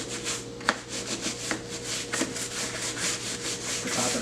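Brush scrubbing foaming cleaner into the bumpy vinyl Tolex around the handle of an 1980s Peavey amp. Close, rhythmic back-and-forth rasping strokes with a few sharper scuffs and no voices.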